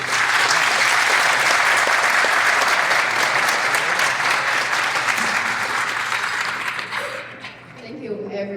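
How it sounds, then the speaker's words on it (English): Applause from an audience at a Lunar New Year dinner in Toronto rolls on loudly and steadily for several seconds, then tapers off as a voice begins speaking. "please offer a big round of applause"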